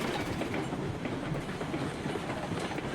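A coal locomotive rolls along rails in the RailRoads Online game, giving a steady, dense rumble with faint rhythmic clatter throughout and no voices.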